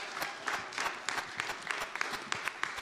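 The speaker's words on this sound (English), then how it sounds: "Let's give them a round of applause." A brief, fairly faint round of applause at an aldermanic candidates' forum, scattered hand claps from a modest crowd carrying on steadily for a few seconds.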